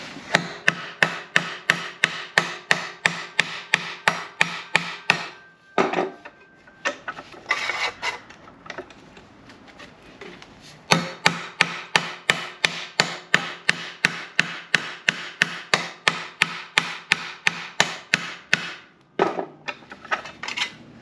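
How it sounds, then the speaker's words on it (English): A big hammer pounds the rusty D pillar of a car body in fast, evenly spaced metallic blows, loud and close, with one brief pause midway and another near the end. "Let's get a big hammer."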